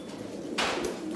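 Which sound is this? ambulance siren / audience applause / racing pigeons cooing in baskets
racing pigeons cooing in baskets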